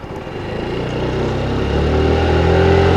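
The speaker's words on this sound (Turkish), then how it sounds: "Bak motor sesini dinliyor musunuz?" A Motolux CEO 110 motorcycle engine runs close by with a steady low rumble that builds slightly in loudness and pitch over a few seconds.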